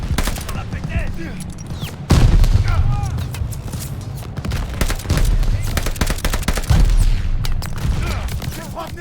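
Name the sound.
gunfire in video game Call of Duty Vanguard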